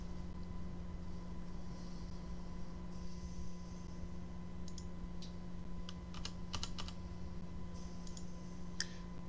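Quiet keyboard typing on a computer during animation software work, with scattered soft key clicks in irregular bursts over a constant low electrical hum.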